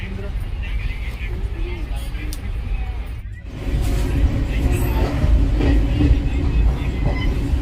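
A train pulls into Khandwa station, a continuous rumble of rail wagons with rattling clicks that swells louder midway, heard from on board, with someone talking over it.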